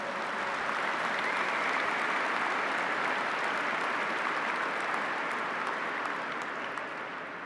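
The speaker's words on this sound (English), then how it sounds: "Please, one round of applause for all the family members and friends who are here." An audience at a police academy graduation ceremony claps steadily for several seconds, a dense even wash of applause from many hands in a large room, with no speech over it.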